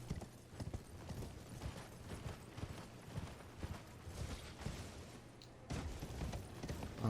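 Horse hooves clip-clop steadily in a video game, a continuous galloping rhythm at moderate distance over dense game ambience, with a brief dip before the hoofbeats resume.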